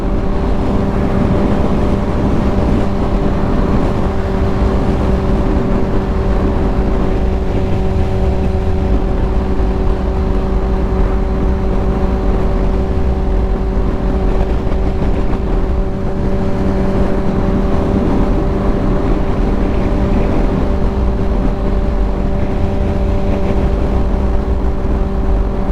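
A motorcycle cruising steadily along a rural road in Kansas, its engine hum constant and loud with a droning low tone and wind rush throughout, no one speaking.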